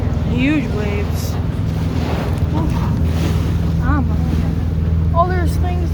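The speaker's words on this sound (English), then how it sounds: "Huge waves." Ocean waves wash against a small tour boat under steady, heavy wind noise on the microphone, with people talking over the constant roar.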